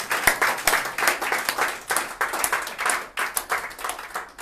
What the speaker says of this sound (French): Ça mérite quand même applaudissements.